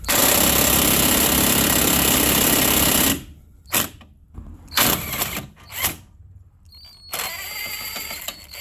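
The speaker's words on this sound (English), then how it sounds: "I'm going to go ahead and get these bolts out." A power tool removes bolts during an engine replacement on a 2017-2020 Nissan Rogue 2.5L, with a long loud continuous whir, then several short bursts and ratcheting spurts with brief pauses between.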